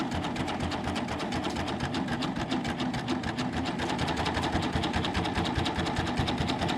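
An industrial sewing machine fitted with a binder stitches a fabric face mask cord, a rapid, even mechanical chatter running continuously up close.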